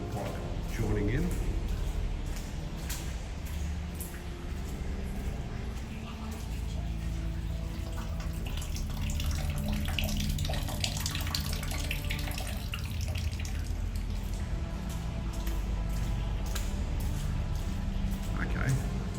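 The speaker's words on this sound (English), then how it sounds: "I can hear a little bit of water running just up ahead of me somewhere." Water runs steadily inside an underground stormwater drain, a continuous echoing trickle and splash heard close, with faint talking at times.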